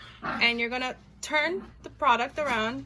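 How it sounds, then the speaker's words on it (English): Dogs bark and whimper somewhere off in the background, a few yips and howling cries coming through beneath someone talking close by. "you can hear my dogs barking in the background"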